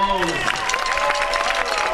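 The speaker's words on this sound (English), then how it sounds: "Round of applause for the trombones" Audience applause for the trombones at an outdoor band concert, a brief burst of clapping that starts right as a voice finishes speaking and continues steadily to the end.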